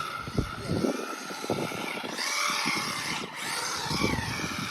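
A Losi NASCAR radio-controlled car drives at local-race pace with a high, whining electric motor that rises and falls in quick bursts, along with tire scrubbing as it slides, at moderate distance with no talking.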